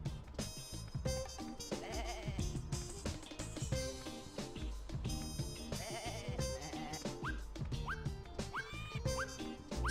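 Sheep bleats from the PlayStation game Looney Tunes: Sheep Raider, wavering cries rising out of busy game music and sound effects, repeated several times over a continuous bed of sound.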